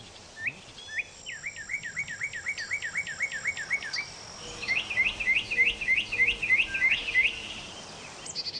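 A mimic thrush sings alone, repeating a quick rising chirp in a fast series, pausing, then continuing with another run of similar notes.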